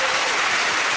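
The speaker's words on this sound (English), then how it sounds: "A jolly, encouraging and patronising round of applause to you." A studio audience at a panel quiz show claps in a short, dense wash of applause that is loud and steady, and a faint voice may sit underneath.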